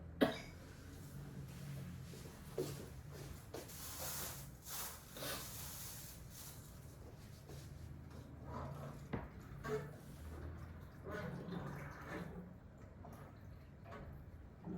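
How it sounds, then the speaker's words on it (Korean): Several coughs and throat-clearing sounds scattered across a quiet room, with a soft hiss in the background and no talking. "기침이요."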